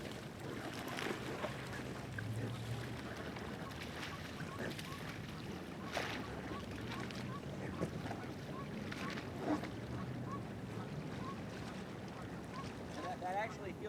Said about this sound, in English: This paddling isn't that bad.